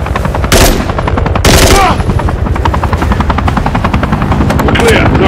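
Rapid automatic gunfire in the Call of Duty Modern Warfare 3 campaign, loud, dense bursts of shots over a constant whirring helicopter drone, with soldiers' radio chatter under it.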